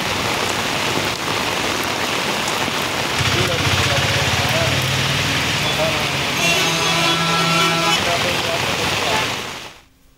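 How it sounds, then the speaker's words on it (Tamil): Heavy rain pours steadily across Thanjavur district, a dense continuous wash of drops with a low rumble partway through, ending in a sudden cutoff. "தஞ்சை மாவட்டத்தில் பல்வேறு பகுதிகளில் கனமழை பெய்தது"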